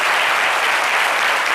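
Dense, steady applause from a television studio audience fills the whole moment, loud and close with no voices over it.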